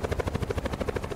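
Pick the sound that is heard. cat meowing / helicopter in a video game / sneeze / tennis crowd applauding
helicopter in a video game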